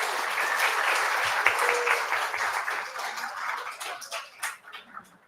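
An audience at an undergraduate research awards ceremony applauds its photographers: dense, steady clapping that thins and fades out over the last couple of seconds.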